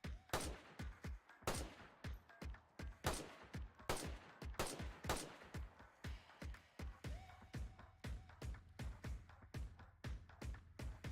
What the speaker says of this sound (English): See, the bullets are hitting, but they're not penetrating